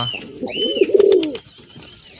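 A ringed pigeon coos nearby, one rolling low coo rising and fading within about a second, with soft background noise around it.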